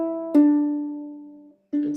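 A close, quiet ukulele strum followed by a sustained plucked note that rings and fades, then another plucked note begins.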